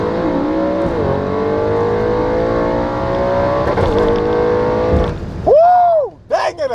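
Audi RS7 and Nissan GT-R held at about 3000 RPM for a launch, a loud steady engine drone that swells, then sharp rising revs near the end.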